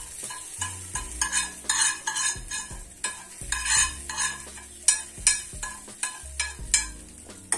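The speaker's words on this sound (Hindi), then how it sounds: "हींग और राई का तड़का हमने लगा दिया, चलिए हम चटनी के ऊपर डालते हैं।" Mustard seeds and asafoetida sizzle in hot oil for a tempering while a spoon repeatedly scrapes and clinks against a metal pan in an uneven rhythm, close and fairly loud.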